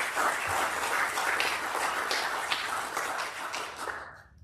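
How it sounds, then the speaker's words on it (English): An awards ceremony audience for peer support officers gives a sustained round of applause, many hands clapping evenly and fairly loud before fading out at the end. "Please join me in giving Robin a round of applause."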